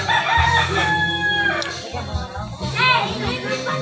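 A rooster crows loudly nearby amid a lively mix of children's voices and people talking.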